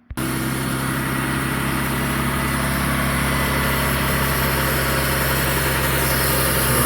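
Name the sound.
2002 Mitsubishi Eclipse 3.0 V6 idling with a vacuum leak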